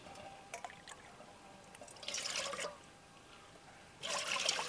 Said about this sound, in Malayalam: 3 കപ്പ് പൊടിക്ക് നമ്മൾ ഒഴിക്കുന്നത് 3 കപ്പ് വെള്ളമാണ്